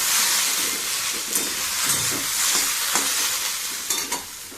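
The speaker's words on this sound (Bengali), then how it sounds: "আর এখানে আলু ভাজা হচ্ছে।" Potatoes frying in a pan during home cooking, a steady close sizzle and hiss with occasional stirring scrapes and clinks throughout.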